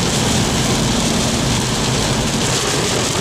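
Heavy rain drumming on a car while driving on a road, a loud, dense, constant roar of rain and road noise with no break and no talking.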